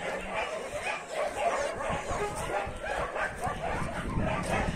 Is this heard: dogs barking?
yes